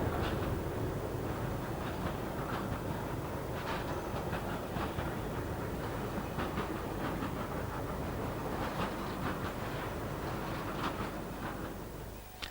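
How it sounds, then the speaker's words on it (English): A pair of Class 73 locomotives on diesel power haul an engineer's train past, with a low engine rumble and a run of repeated wheel clicks over rail joints, fading slightly toward the end. "a pair of 73s on diesel power work an engineer's train to Temple Mills"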